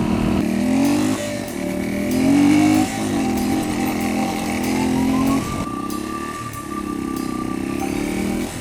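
A 2004 Yamaha XT225 dual-sport motorcycle rides along with a steady, close engine drone whose pitch climbs through gear changes, rising, dropping and rising again, with no voices over it.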